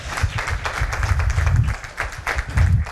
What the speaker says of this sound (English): So round of applause for Josh.